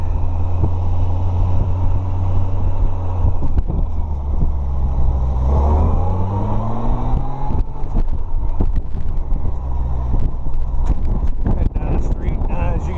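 A Honda Goldwing motorcycle, engine not yet warmed up, rumbles low and steady as it rides off, with a rising pitch sweep mid-way, wind buffeting the microphone and a person talking over it.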